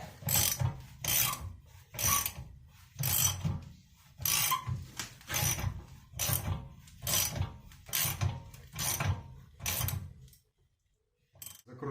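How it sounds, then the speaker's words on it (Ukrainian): A ratchet wrench tightens the rear wheel hub nut on a 2009 Seat Altea, rapid clicking bursts repeated in a regular rhythm about once a second, close and crisp, ending in silence. "Беремо тріщоточку."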